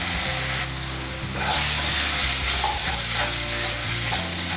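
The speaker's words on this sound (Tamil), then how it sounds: "கடலை மாவுடைய பச்சை வாசனை போகிற வரைக்கும் நல்லா வதக்கிக்கலாம்" Gram flour paste sautéing in a pan with ground ginger, green chili and garlic, a loud continuous sizzle broken by frequent stirring scrapes, close up with no talking.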